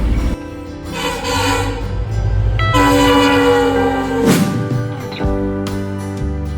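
A train roars past nearby with a long, loud horn blast sounding over the heavy rumble of the wheels.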